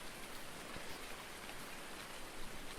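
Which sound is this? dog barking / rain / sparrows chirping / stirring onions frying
rain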